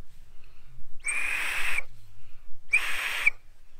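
Whistle built into the two-piece handle of a snow shovel, blown in two sharp, shrill blasts of under a second each, separated by a short gap, loud and close with no talking.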